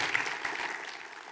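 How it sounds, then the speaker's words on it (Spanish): A church congregation claps together in a short burst of dense applause, fairly distant and soft, lasting just over a second with no voices on top. "Denle un aplauso al Señor"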